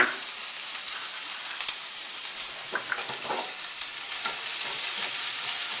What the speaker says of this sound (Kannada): ಫ್ರೈ ಮಾಡಬೇಕಲ್ವಾ ಆನಿಯನ್ ಫ್ರೈ ಮಾಡ್ಕೋಬೇಕು